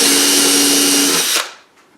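Close power drill boring a pilot hole through a wooden tool box lid held by a clamp for screws; a steady loud whine for just over a second, then the motor spins down to quiet.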